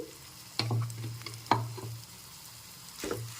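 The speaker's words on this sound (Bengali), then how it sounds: "পেস্টটা দিয়ে ভালো করে নেড়েচেড়ে নিতে হবে কড়াইয়ের মধ্যে" Green pea paste for koraishutir kochuri filling sizzles steadily in a hot kadai as it is stirred, with a few sharp spatula scrapes and clinks over a continuous close frying hiss.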